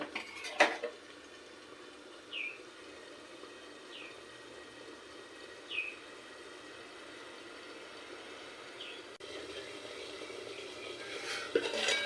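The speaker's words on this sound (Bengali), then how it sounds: "ভালো করে তেল ওঠা পর্যন্ত খুব ভালোভাবে কষিয়ে নেব ঢাকা দিয়ে মশলাটা" Spice masala being sautéed for a Bengali katla fish curry with potatoes: quiet, sparse clinks and scrapes of a spoon against a metal pan over a faint low hiss, with a louder clatter at the start and end.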